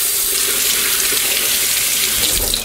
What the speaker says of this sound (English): Rinse your tofu.